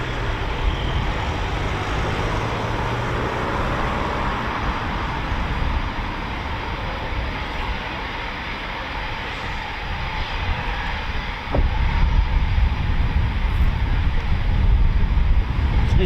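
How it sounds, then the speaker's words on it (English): A Eurofighter Typhoon FGR4 makes a performance takeoff at RAF Coningsby, a loud sustained jet roar that holds steady and grows heavier and rumbling toward the end. "Now we're going to see the power of the Typhoon's impressive thrust to weight ratio"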